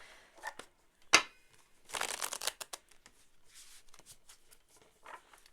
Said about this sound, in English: Gonna shuffle this a few times.